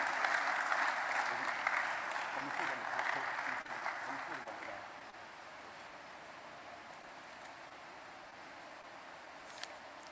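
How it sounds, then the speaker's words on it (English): Applause for the President at the opening ceremony of an annual conference, a sustained crowd clapping that swells, then fades after about four seconds into a quiet room with faint rustle. "Another round of applause for His Excellency the President."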